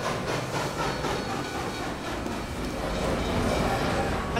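A train rolls past in Team Fortress 2, a steady rumbling clatter of rail cars held at an even, fairly loud level throughout.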